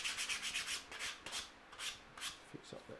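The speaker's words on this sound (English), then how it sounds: "There's my piece of sandpaper." Hand sanding with a piece of sandpaper across the edge of a wooden dovetail frame produces quick, rhythmic rasping strokes that are close and moderately soft, with no talk.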